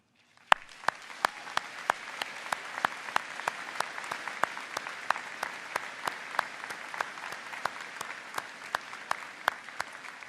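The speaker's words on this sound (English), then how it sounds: "all deserve a very big round of applause" Sustained applause from a large crowd at a university commencement ceremony, dense and even, with sharp individual claps popping out steadily throughout.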